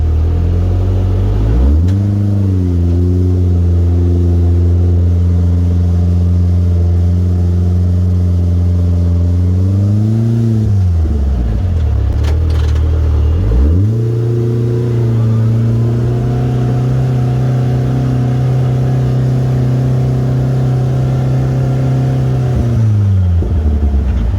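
A Turbo Pro R 405 HP vehicle running on an ethanol blend drives off with a loud, deep engine drone that rises and falls through several gear-like revving swells, close and continuous.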